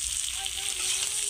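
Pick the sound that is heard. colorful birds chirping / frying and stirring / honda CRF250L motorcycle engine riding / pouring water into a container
frying and stirring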